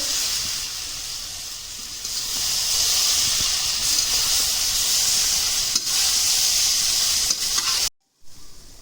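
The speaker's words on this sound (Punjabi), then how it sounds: "ਦੇਖ ਲਾਂਗੇ ਇਹਨੂੰ ਹਿਲਾਵਾਂਗੇ ਵੀ ਨੀਚੇ ਤਾਂ ਨਹੀਂ ਲੱਗ ਰਹੀ" Besan-coated karela sabzi sizzles steadily in a pan for about eight seconds, with scraping stirring strokes on top, close and fairly loud, then cuts off abruptly near the end.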